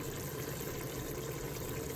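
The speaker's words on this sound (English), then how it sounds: "We're gonna go ahead and add a little bit more water." Warm water is poured into a pot of simmering, reducing oxtail stew, a continuous even gush at close range that fills the whole short stretch with no voices.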